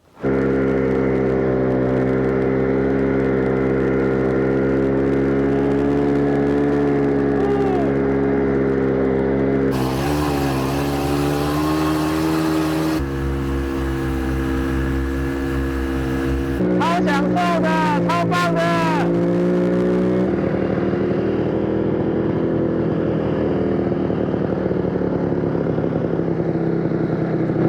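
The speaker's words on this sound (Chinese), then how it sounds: "那我们等一下就要去山林里面骑雪地摩托车了" A snowmobile engine drones loudly and steadily throughout while riding through snowy mountain forest near Sapporo, its pitch shifting now and then, while a person speaks excitedly over the noise.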